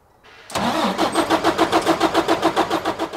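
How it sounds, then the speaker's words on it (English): A truck engine cranks with a short starter whir, then catches and settles into a rhythmic pulsing idle, loud and close, with no talking. "So now let's crank the truck over."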